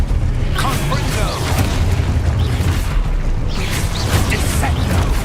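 Confringo spell explosions booming in Hogwarts Legacy, a dense, loud, continuous rumble of blasts and crackling bursts running the whole stretch with a voice talking over the top.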